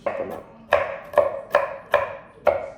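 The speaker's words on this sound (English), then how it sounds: "what I do actually need to do is chop up some more walnuts" A knife chops through walnuts on a cutting board in five sharp, evenly spaced strikes, each a crisp close thud with a short woody clatter.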